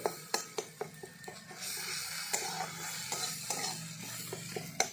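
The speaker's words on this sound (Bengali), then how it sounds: "দেখুন মশলাটা খুব ভালো করে কষানো হয়ে গেছে, আর শুধু তেল ছেড়ে ছেড়ে এসেছে।" Spice masala with tomato and a little water is stirred in a pan, with a soft bubbling sizzle under a run of sharp spatula taps against the metal, close up and with no talk.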